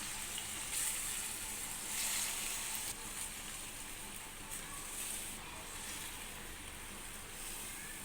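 Cooked mixed vegetables for a traditional Bhogi mixed-vegetable dish get stirred together in a pan, giving a steady soft sizzle with faint scraping throughout, alone with no talk.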